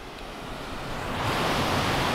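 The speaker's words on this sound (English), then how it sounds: "you've got the waterfall to the right, and you've got the waterfall to the left." A waterfall in a Peak District gorge gives a dense, steady roar of falling water that swells louder partway through, heard alone without any voices.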